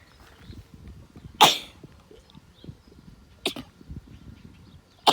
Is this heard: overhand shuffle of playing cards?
no